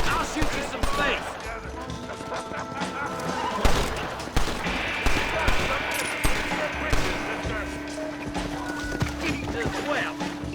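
Gunfire in the video game Red Dead Redemption, with sharp shots and thuds mixed among horse hoof clops and game sounds, loud and busy, with character voices talking over it.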